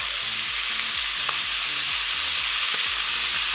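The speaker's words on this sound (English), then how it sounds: "Look at that sizzling." Steady loud sizzling of spatchcocked chicken frying in a hot cast iron skillet, a continuous crackling hiss with no talking.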